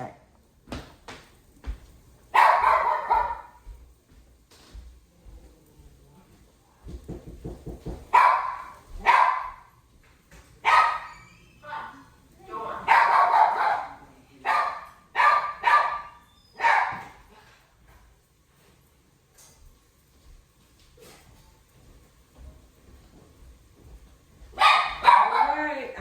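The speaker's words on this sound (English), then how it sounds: "Dog is barking in the background." A dog barks in the background of a home kitchen during cooking, loud bursts of repeated barks and yips coming in clusters with quiet gaps between them.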